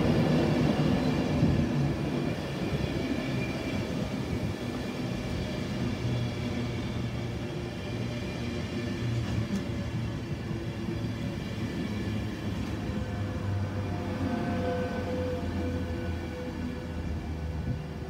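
A train at Grantham railway station, a steady low diesel rumble and hum with engine tones lasting throughout, moderately close and unbroken by talk.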